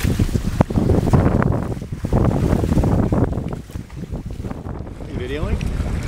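A sailboat underway off Ocho Rios, Jamaica, with steady wind buffeting the microphone and water rushing past the hull, continuous and close throughout, broken by a few low thumps.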